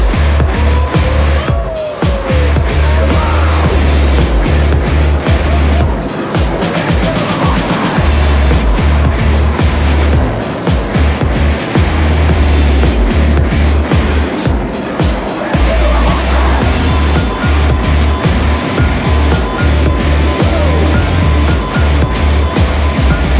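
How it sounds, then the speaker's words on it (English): A tank engine drives continuously for a long stretch, loud and close, with a heavy low rumble and grinding track and road noise throughout. "I just drove a tank."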